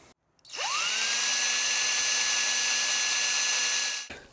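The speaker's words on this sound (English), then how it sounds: "We have to drill in a ground path to this stud right here." A power drill spins up and runs at a steady high whine for about three and a half seconds, drilling a ground path into a guitar body, close and loud, then stops abruptly.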